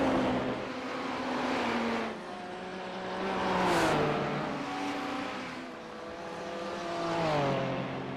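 A race car at the Bathurst 12 Hour endurance race, car number 43, roars past in a few loud passes, its engine note sweeping up and then falling away as each one goes by.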